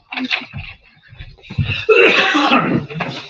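A few throaty coughs mixed with bursts of voice, close to the microphone, ending in a louder, sustained stretch of vocal noise.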